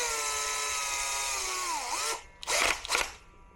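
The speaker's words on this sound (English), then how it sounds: "the drill comes back out before this upgrade can actually be installed properly." A power drill whines steadily while boring holes into a Tamiya Lunchbox RC truck chassis, its pitch sagging under load before it stops, followed by two short, sharp bursts of drilling.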